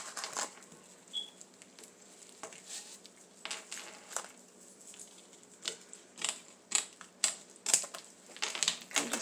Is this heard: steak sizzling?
no